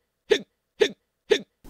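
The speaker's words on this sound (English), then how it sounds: "How to stop the hiccups." Three sharp, evenly spaced hiccups about half a second apart, close and clear, each a quick voiced gulp, followed by the start of a fourth.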